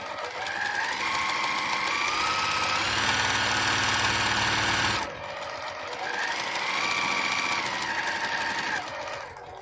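A sewing machine with a quarter inch foot hums and stitches in two runs, a loud, close mechanical whir that rises in speed, stops briefly near the five-second mark, then resumes before trailing off.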